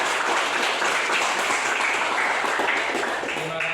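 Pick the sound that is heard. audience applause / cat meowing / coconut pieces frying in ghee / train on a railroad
audience applause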